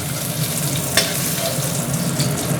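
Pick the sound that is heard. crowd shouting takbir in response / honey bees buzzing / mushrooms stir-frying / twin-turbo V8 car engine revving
mushrooms stir-frying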